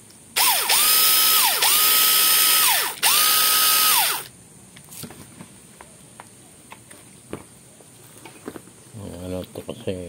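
A cordless Ozito impact driver fires in three loud, hammering bursts of rapid ratcheting impacts over about four seconds, followed by quieter clicks and handling noise.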